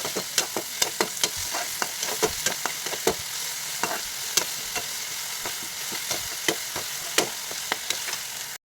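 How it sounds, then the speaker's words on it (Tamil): Onions and tomatoes frying in oil in a pan, stirred with salt added: steady loud sizzling crackle broken by regular sharp scraping clicks of the spoon, close and continuous with no talk. "உப்பு போட்டால் கொஞ்சம் கிண்டி விட்டுக்கலாம்"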